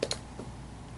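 Calculator keys are pressed in two quick, close clicks right at the start, followed by a softer tap and then quiet room tone.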